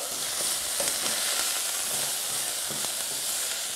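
Steady, loud sizzling and hissing of food frying in a hot saucepan, smoking, continuous throughout with faint stirring scrapes and no talking.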